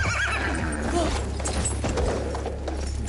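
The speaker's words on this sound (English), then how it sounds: "The Bedouin treasured their horses" A horse neighing in the video game Battlefield 1, a loud whinny with clip-clopping hooves over a steady, dense background of game ambience and mechanical noise.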